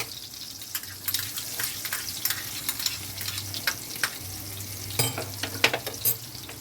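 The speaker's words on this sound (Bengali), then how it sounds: "পেঁয়াজটাকে আমি কুচিয়ে রেখেছিলাম, পেঁয়াজটা আমি তেলের মধ্যে দিয়ে দেবো।" Chopped onion sizzles steadily in hot oil in a home kitchen pan, with close stirring scrapes, occasional sharp spatters and a faint hint of running water in the background.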